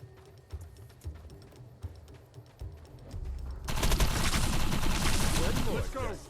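Gunfire in the video game Defiance: scattered single shots at first, then a dense, loud burst of rapid automatic fire with voices faintly underneath.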